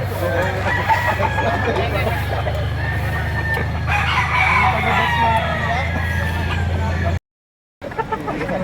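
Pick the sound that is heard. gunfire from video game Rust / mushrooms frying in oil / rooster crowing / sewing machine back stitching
rooster crowing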